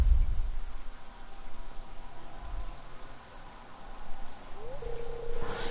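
Rain falls over a lake in the video game Stardew Valley as a steady soft hiss, with faint tonal game music rising near the end.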